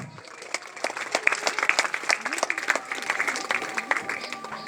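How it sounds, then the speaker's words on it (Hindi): Loud, crowded applause at a school academy's first annual function in India, with many hands clapping in quick uneven bursts while voices murmur and call out beneath it. "जोरदार तालियां।"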